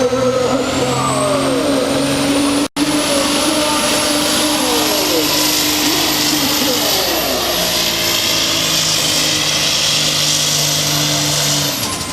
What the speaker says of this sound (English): We're hanging out with the Hushpower monster truck.